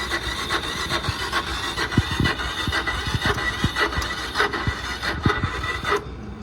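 An engine cranks over on a cold start, the starter churning in a rapid, uneven rhythm that stutters and drags without the engine catching, close and loud.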